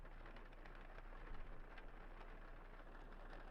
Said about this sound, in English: I didn't realize it was supposed to storm like this.